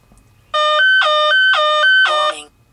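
An electronic voltage warning alarm from the Torque Pro app monitoring a Ford 6.0 truck gives loud, close, repeated two-tone beeping in a quick alternating pattern, followed by a final falling chirp. No speech.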